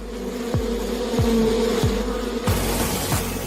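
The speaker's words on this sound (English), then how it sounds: "but also with angry bees" Dense, steady buzzing of angry honey bees fills the clip, loud and close, with a few low thumps passing beneath the droning swarm.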